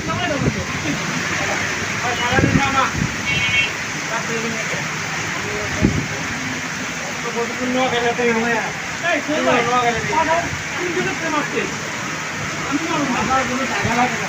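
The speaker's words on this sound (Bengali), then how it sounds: "আর শুক্রবার প্রচুর পরিমাণ বৃষ্টি হচ্ছে।" A heavy downpour in Dhaka heard from inside a garage, with light hail here and there: a dense, steady roar of rain on surfaces throughout, close and loud, with a voice talking over it.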